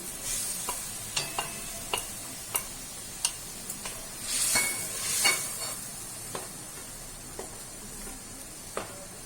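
Prawns sizzle in a pan while cooking a prawn curry, with a soft, continuous hiss that swells briefly mid-way and scattered sharp taps of a utensil against the pan.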